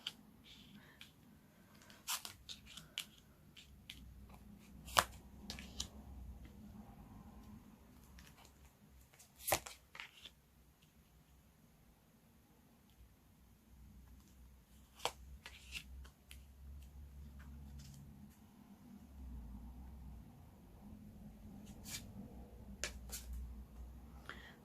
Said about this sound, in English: I'm going to give these a shuffle.